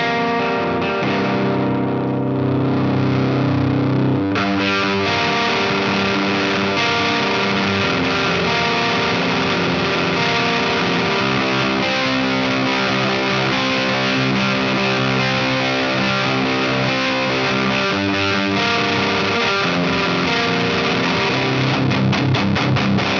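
Guitar through a RAT distortion pedal set to dual clipping diode mode, a thick, saturated, continuously ringing distorted tone with chord changes, loud and alone.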